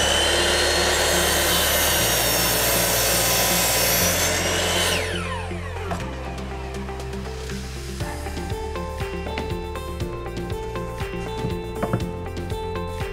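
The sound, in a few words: power saw cutting timber for hexagon shelves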